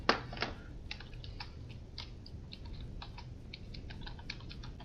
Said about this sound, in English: Okay, so now the keyboard works,